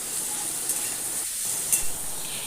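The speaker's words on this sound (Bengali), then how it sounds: "একটা খুন্তির সাহায্যে ভালো করে আমি তেলের মধ্যে স্কোয়াশগুলোকে নাড়িয়ে নিলাম" Chayote squash pieces frying in oil, a steady, moderately quiet sizzle broken by a couple of soft clicks as a spatula stirs them, with no one speaking.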